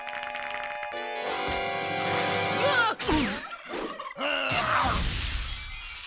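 A cartoon turkey gobbles loudly in rapid warbling bursts, with a crash and shattering noise breaking in partway through.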